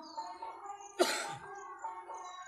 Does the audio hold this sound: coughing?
yes